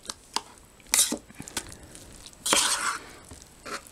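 A spoon scrapes and clinks through curry rice and beans being mixed together from a South African MRE ration pouch, in several short, close bursts with quiet gaps between.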